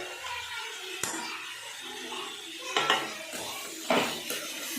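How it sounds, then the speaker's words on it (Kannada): Okra tipped into a pan and dry roasted, heard as scattered clatters and scrapes of pan and utensil with a sharp knock near the start and louder bursts later, over a faint background. "ಈಗ ಬೆಂಡೆಕಾಯಿ ಹಾಕೋತಾ ಇದ್ದೀನಿ. ಸ್ವಲ್ಪ ಡ್ರೈ ರೋಸ್ಟ್ ಮಾಡಿ ಹಾಕ್ಕೊಂಡ್ರೆ"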